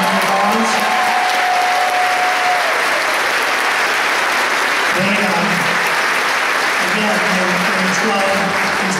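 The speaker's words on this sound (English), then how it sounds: "I would also like to give a round of applause to the football team that's sitting in the back." A crowd at a marching band show applauds the football team seated at the back, producing loud, continuous dense clapping with scattered cheers and voices mixed in throughout.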